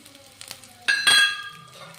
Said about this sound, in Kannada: ಲೋ ಫ್ಲೇಮ್ನಲ್ಲಿಟ್ಟು ಫ್ರೈ ಮಾಡ್ಕೊಳ್ಳೋಣ.